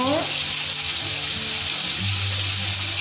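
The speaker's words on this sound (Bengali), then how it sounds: "এখানে আলু কেটে নিয়েছি গোল গোল করে আলু কেটে নিয়েছি আলুটা ভেজে নেব" Round-sliced potatoes fry in oil left over in a kadai wok, giving a steady close sizzle with a continuous bubbling hiss throughout and a few faint clinks of a utensil.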